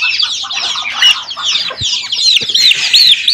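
Turkeys raised on a farm cluck and chirp in a dense, continuous chorus of short, high calls, close and fairly loud, with a few soft thumps underneath.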